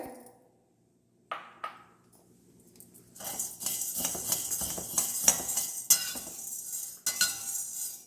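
Chana dal poured into a heavy pan for dry roasting: a few sharp clinks of metal utensils first, then a dense rattling patter of lentils hitting the metal, with more clatter near the end.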